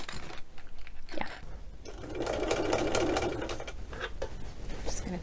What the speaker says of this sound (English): I'm going to undo the zip and then stitch it. Of course, I need my zipper foot.